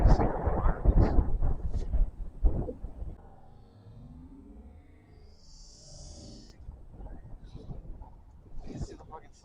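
Evening thunderstorm outdoors with a deep rumble of thunder and gusty wind buffeting the microphone early on, fading to a quieter stretch before rumbling returns, while people talk over it.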